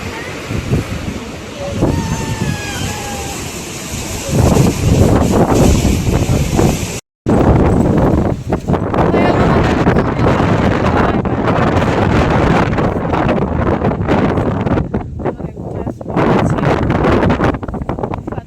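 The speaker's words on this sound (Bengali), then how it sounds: "হাওয়া দিচ্ছে না, বেশি হাওয়াটা মারছে এসে।" Strong wind at the seaside buffets the microphone with a loud, continuous roar and gusting rumble. Faint voices come through early on, and the wind drops out for a moment before surging again.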